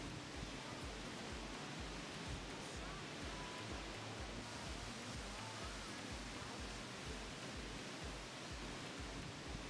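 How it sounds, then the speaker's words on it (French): A waterfall hidden at the bottom of a canyon gorge roars as a constant, dense broadband rush, steady and unbroken throughout, with no voices. "La cascade se cache au fond d'un canyon."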